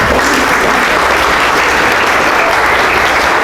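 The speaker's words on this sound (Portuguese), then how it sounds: "Bate palmas para eles, por favor." Loud, dense clapping from an audience at a spiritist family talk, honoring the married couples in the room, continuous and close with no pauses.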